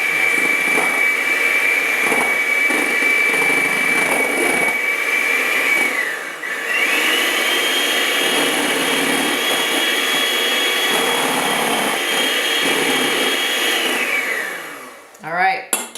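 Eggs with vanilla whipped until frothy by an electric mixer, its loud steady whirring whine running for about fourteen seconds with a brief dip in speed midway, then stopping, followed by a few clatters.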